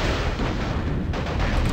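Artillery fire in the MechCommander video game, a dense, continuous rumble of booming blasts that stays loud and steady throughout.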